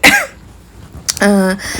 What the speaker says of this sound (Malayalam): ചുമ നോക്ക് ഭയങ്കര ചുമയാണ്